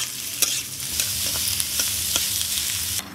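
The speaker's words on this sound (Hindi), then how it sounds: "मिर्ची हल्का सा भून गया है, अब यहीं पे हम प्याज डालेंगे" Onions frying in a pan with lightly roasted green chillies make a bright, constant sizzle close by. Repeated spatula clacks and stirring scrapes sound through it, with no speech.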